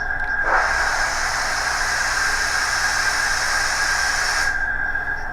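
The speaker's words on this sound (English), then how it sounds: "F14 is your steam release." Piko BR 78 model steam locomotive releasing steam, a loud steady hiss that starts abruptly, runs about four seconds, then cuts off, heard up close with no talking.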